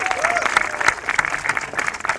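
Applause from a studio audience at a Punjabi-Saraiki talk show, a short burst of scattered clapping with some voices mixed in, moderately loud and close.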